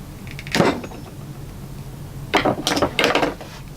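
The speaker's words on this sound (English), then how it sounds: "I'm going to try to torque this down a tiny bit more." A collar is being tightened on a Gränsfors Bruks Wilderness hatchet handle, heard as several close, short ratcheting and creaking bursts separated by quiet pauses, with no voices.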